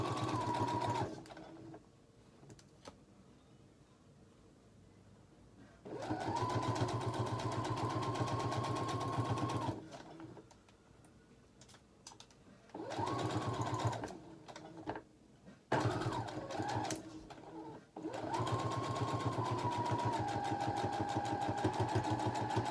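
A sewing machine runs across the bottom of a fabric face mask with its lining, in several loud sustained bursts of steady whirring separated by quieter pauses, with no talking.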